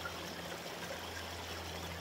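A spoon is rinsed in water at home, a soft steady trickle and splash of running water close by, quiet and continuous without talk.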